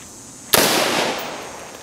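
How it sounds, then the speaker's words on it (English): A single firearm shot on a shooting range, one sharp loud bang with a long bright echoing decay that fades over a second or so. "Now your finger's on the trigger. Now the gun's ready to shoot."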